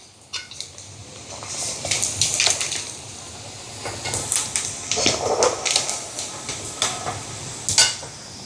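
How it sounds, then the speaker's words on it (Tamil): Light sizzling and crackling of prawns frying in hot oil, with intermittent clinks of a utensil against the pan, close up and no talking. "இப்போ இறால் பொரிஞ்சிட்டு எடுப்போம்."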